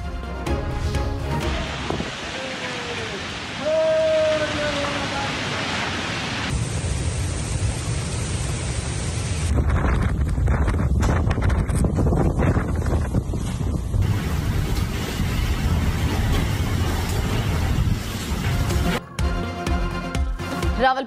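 Night storm over Rawalpindi and Islamabad, with strong gusting wind roaring steadily as a broad, dense rush, likely mixed with heavy rain, loud and continuous throughout with no voices.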